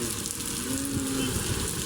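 Heavy, continuous rain hisses steadily from beneath a bridge near SM Marikina, a dense wash of close, even patter with no talking.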